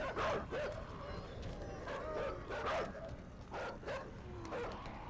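Barking and yipping from a dog in the puzzle-platformer video game Inside, several sharp repeated barks at steady intervals over a rumbling game background, fairly loud and without talk.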